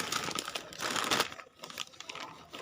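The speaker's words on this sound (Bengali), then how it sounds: "তো আমার বন্ধুদের জন্য কিছু ছোট ছোট উপহার নিয়েছি তো সেগুলো এখন আনপ্যাক করছি" Small gifts being unpacked, their wrapping crinkling and rustling in close, busy bursts with brief pauses, no talking over it.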